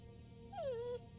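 A dog in the video game Moonglow Bay lets out a single drawn-out whimpering whine that slides downward, clear and close over a soft background of game music.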